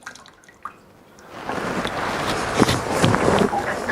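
Tap water runs steadily through a newly installed ICEPURE WFS5300A under-sink filtration system, a soft rushing hiss that starts after a couple of faint clicks and continues at an even level with slight splashing.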